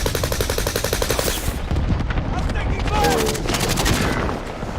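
Rapid bursts of automatic gunfire from a first-person shooter video game, loud and continuous with overlapping shots and a brief swell of heavier fire, heard alone without talk.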